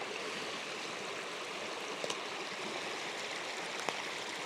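A stream flowing through a mossy ravine, a steady close rushing and gurgling of water, faint and continuous with a couple of small clicks.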